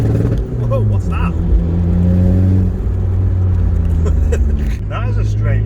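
A modified VW Polo engine revving hard under load and bouncing off its quick-cutting rev limiter, a loud close droning rumble that stutters, with a person talking over it.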